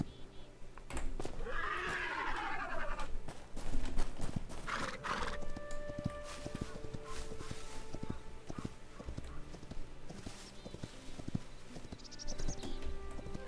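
Horse hooves clip-clop and a horse whinnies loudly near the start in the video game Hytale, with game-like ambient sounds and faint background noise throughout.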